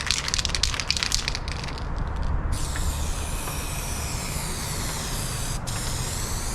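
Touch-up paint top coat being sprayed from a spray can onto a scratch repair, a continuous hissing spray with brief rattly bursts at the start, close and steady throughout.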